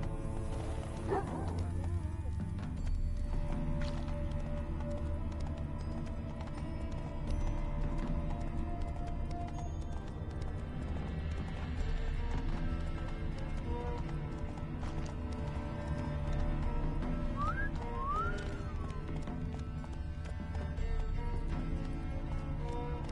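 A horse in The Witcher 3: Wild Hunt trots with hooves clopping in a steady rhythm over a low continuous rumble, with a brief whistle-like tone rising near the end.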